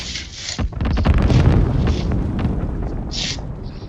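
A grenade blast in a shooter video game: a deep, rumbling boom that swells and lingers for a few seconds, with scattered sharper cracks around it.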